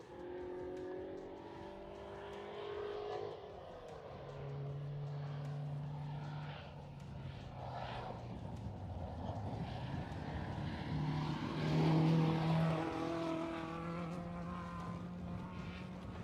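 A distant rally car engine drones and rises as the car approaches and passes on a rally stage, the pitch sliding down as it goes by, with no talking.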